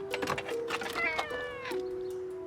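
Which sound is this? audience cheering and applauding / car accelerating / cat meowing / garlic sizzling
cat meowing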